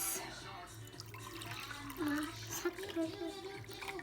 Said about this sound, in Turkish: Şimdi iki bardağımıza da su koyacağız